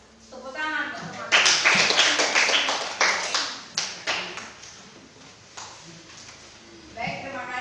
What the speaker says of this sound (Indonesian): Tepuk tangan buat teman.